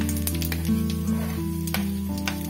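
Fennel, ajwain and garlic spices sizzle steadily in hot oil for a raw mango chutney, a close, continuous frying hiss with a few brief crackling bursts and no voices.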